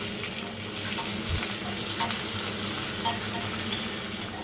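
Curry leaves frying in hot tempering oil with dried red chillies for a South Indian vegetable dish, giving a steady, dense sizzle with occasional stirring scrapes throughout.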